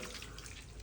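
Running tap water rinses a dog's body during a bath, a steady close splashing flow with no break across the short moment.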